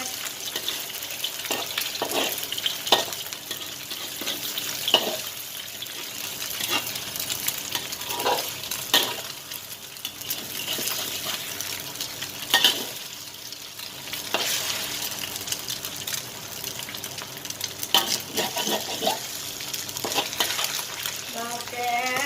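Eggs stir-fried with glass noodles and carrots in a pan over low heat, with steady sizzling broken by repeated scrapes and clanks of a utensil against the pan, close and moderately loud.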